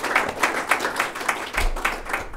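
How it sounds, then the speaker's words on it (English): Scattered clapping from a small audience at a programming talk, a few claps rising into brief applause, fairly close, with no one speaking. "Can I get some applause?"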